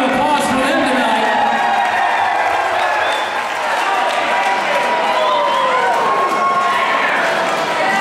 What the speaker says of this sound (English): Let's give a round of applause for them tonight.